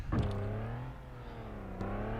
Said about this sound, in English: Let these cars pass by.